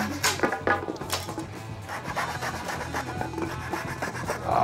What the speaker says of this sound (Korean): 톱질이 쉽지 않습니다